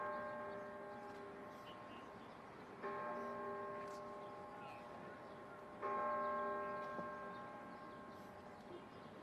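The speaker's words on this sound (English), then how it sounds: "Who does the bell toll for?" A church bell tolls outdoors, with two clear strikes about three seconds apart, each ringing out in a long, fading, resonant hum over faint background noise.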